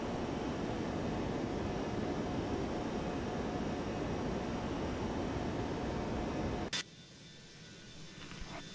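Simulated Airbus A321neo engines roaring during takeoff in the X-Plane 12 flight simulator, a steady dense rumble and hiss that cuts off abruptly near the end, leaving a quieter hum.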